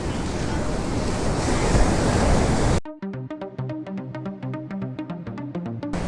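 Rough sea waves at Varkala cliff roll in as a broad, steady wash of surf mixed with wind noise for almost three seconds before cutting off abruptly to a different, tonal sound.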